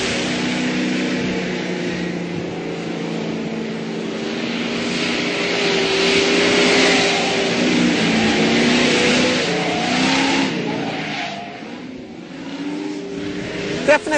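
A Ford Mustang Boss 429 working through a slalom around pylons, its engine droning and rising and falling as the car is throttled between cones, loud and fairly close throughout.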